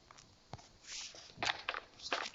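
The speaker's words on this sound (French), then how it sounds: "Les bruits de pas, ça fait littéralement..." Footsteps in the video game 3008 patter in an uneven series of soft, close steps, growing slightly louder toward the end, with no talk.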